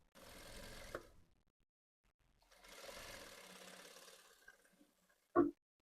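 Sewing machine stitching fabric along a 1/4 inch seam, with two steady whirring bursts separated by a pause, then a single sharp knock at the end.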